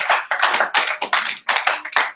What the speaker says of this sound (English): You guys give him a round of applause for Joe.